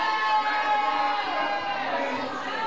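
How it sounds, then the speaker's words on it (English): Crowd at an independent wrestling tag-team championship event cheers and shouts steadily, a sustained mid-distance roar with an announcer's voice faintly mixed in. "Hear the crowd already responding."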